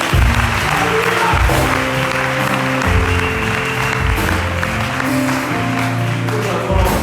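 A church congregation at a Sunday service applauds loudly and continuously, with sustained musical tones running underneath the clapping.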